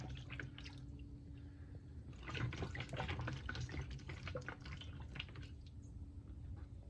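Thick, oily old fuel pours from a gas jug into a 1988 Ford F-250 truck, a steady liquid trickle and splash running continuously at close range with no talk.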